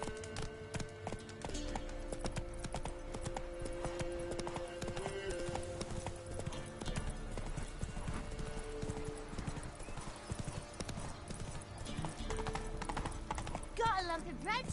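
Roach, the horse in The Witcher 3, gallops with a steady rapid clip-clop of hooves over busy game music and ambience, with a whinny near the end and someone talking over it.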